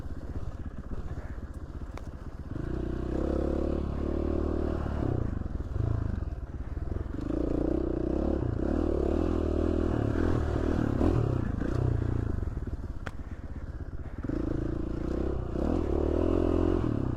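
Dirt bike ridden on trails near Gold Fork Lookout in Idaho, a steady close engine drone with rising and falling revs and clattering over rough ground, continuous throughout.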